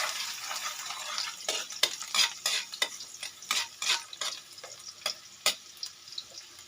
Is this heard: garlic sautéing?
yes